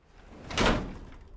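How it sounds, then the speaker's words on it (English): A door in the video game Fallout London unlocking and swinging open in an underground metro station, a single soft mechanical clunk and slide that swells briefly, then fades into quiet room tone. "So this just unlocked the door for us."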